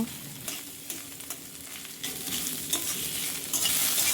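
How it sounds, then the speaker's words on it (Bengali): Two medium chopped onions fry toward golden brown in a pan, a close steady sizzle broken by repeated scraping stirs of a spatula, growing louder toward the end with no voices. "পেঁয়াজটিকে ভালো করে গোল্ডেন ব্রাউন করে ভেজে নেব"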